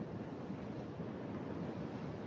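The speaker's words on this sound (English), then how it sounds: "Some wicked wind here yesterday, and today too." Strong storm wind blows steadily outdoors, a dense low rushing roar that buffets the microphone without letup and with no voices.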